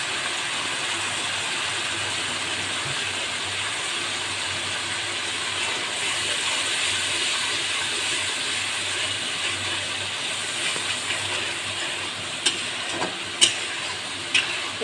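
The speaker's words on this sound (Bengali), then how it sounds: "এটা একটু ভাজা ভাজা হবে, একটু তেল ফোটা আসবে" Dry chili powder sizzling and frying in hot oil in a pan, a steady close hiss with a few sharp pops and clicks near the end, no talking.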